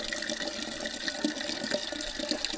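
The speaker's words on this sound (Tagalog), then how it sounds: "Tapos ito tayo nakuha ng tubig kasi galing sa bukal talaga sa bukid." Spring water from a mountain source in a rural province flows steadily, a close, continuous splashing rush with bright gurgling texture and no voices, holding strong despite El Niño heat.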